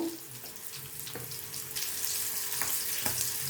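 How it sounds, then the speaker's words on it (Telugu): Spices crackle and sizzle in a hot pan, a soft steady hiss with scattered small pops. "ఇదిగోండి ఇవి వేగిపోతున్నాయి."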